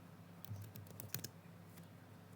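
A few sparse computer keyboard keystrokes, a Ctrl+C shortcut, clicking faintly and close over a low steady hum, with one sharper press near the middle.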